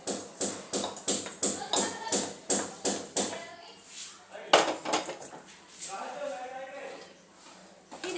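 A ladle clinks and scrapes against a metal pot about a dozen times in quick rhythm while chickpea curry is served onto a plate. Softer clatter and some talk follow.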